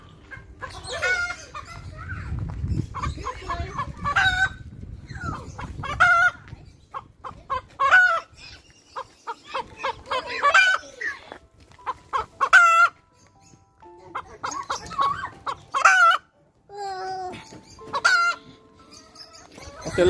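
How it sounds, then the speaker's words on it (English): Chickens in a chicken coop at Castle Ashby Gardens cluck and crow nearby in repeated bursts, with some low rustling early on and no talk over them. "Chicken. It's a chicken coop."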